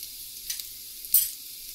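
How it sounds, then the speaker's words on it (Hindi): Finely chopped green chillies sizzle in hot oil in a pan, a brief steady hiss with a couple of stirring swells. "फिर इसमें डालेंगे फाइनली चॉप ग्रीन चिलीज"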